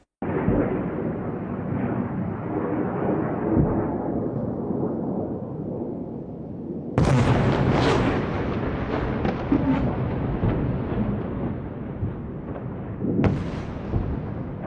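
Missile attack explosions over Israeli cities at night, a long distant rumbling roar followed by a sudden heavy blast and another later boom, deep, rolling and far off.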